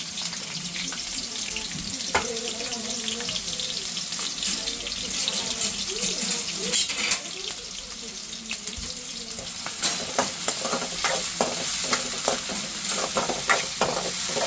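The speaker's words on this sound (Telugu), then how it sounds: "ఫ్రైకి ఆనియన్స్ వేసేసుకుంటున్నాం" Onions frying in oil in a pan for a curry, heard as a steady close sizzle with spatula stirring and scraping that grows busier and clatters more toward the end.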